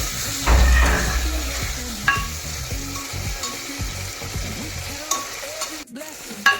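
Tomatoes frying with fried onion for chicken pulao, a loud close sizzle with repeated spatula scrapes and stirring knocks throughout, no talk.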